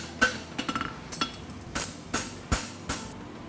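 Hammer blows on a horseshoe at an anvil during a world championship blacksmithing contest, ringing metallic strikes spaced unevenly about every half second, close and sharp with no talk.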